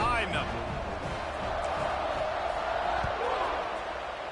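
A football stadium crowd roars steadily before kickoff at a Sun Devils game, a dense, sustained wash of cheering and noise throughout.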